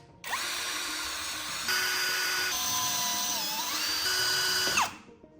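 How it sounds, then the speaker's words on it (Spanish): Power tool tapping M4 threads into holes, a high whining drill-like motor that runs steadily for about five seconds, shifting pitch partway through, then spins down. "Roscamos todos los agujeros a métrica 4."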